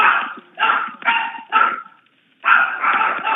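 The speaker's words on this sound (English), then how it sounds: "I hear the dogs barking." Dogs bark in four quick, loud bursts, pause, then bark again in a longer run close by.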